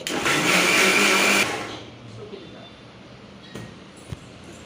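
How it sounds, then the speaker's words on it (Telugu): A mixer grinder whirs loudly for about a second and a half, then cuts off, leaving quiet room noise with a few faint clicks. "ఇప్పుడైతే మా అత్త మిక్సీ పడుతుంది"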